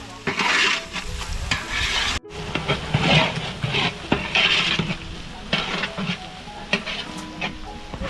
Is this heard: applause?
no